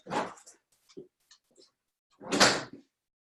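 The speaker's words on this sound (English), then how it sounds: "I'm sorry, my dog." A pet dog in a home gives a couple of sharp barks, one at the start and one near the end, with faint whimpers and small knocks in between.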